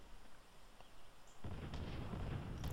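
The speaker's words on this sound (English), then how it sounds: "Ooh, I hear artillery coming." Artillery explosions in the zombie video game State of Decay: a heavy, booming blast hits abruptly after a quiet moment and rolls on as loud, rumbling fire.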